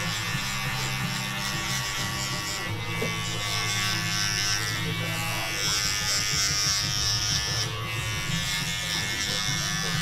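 Hair clippers buzz steadily and loudly at close range, the motor tone shifting slightly as the blades cut through hair.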